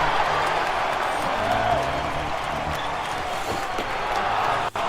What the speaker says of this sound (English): Well, the crowd's all excited, but they want more.